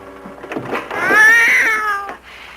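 A tabby cat gives a single drawn-out meow, close and fairly loud, rising and then falling across about a second, with fainter shorter cries just before it and no talking.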